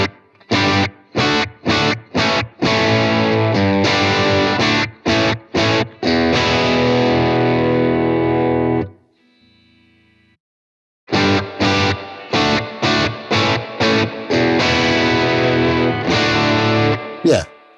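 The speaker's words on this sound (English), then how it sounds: "So you have three different types of reverbs there to help you tailor your tone." Electric guitar through a Blackstar Amped 2 pedal amp with reverb, distorted chords struck in choppy bursts and sustained ringing, a short quiet gap, then more stabbed and held chords, loud and alone.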